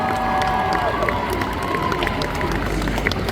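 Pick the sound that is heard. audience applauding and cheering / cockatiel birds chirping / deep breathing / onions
audience applauding and cheering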